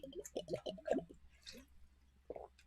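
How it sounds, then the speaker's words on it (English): Wet sipping and squishy gurgles from a soft leather water skin, a few close, quiet pulls with short pauses between them. "this is like the best water bottle I've ever heard"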